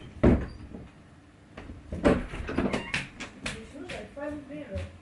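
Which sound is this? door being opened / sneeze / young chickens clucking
door being opened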